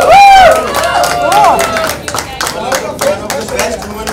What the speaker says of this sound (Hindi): जोरदार तालियां दोनों के लिए।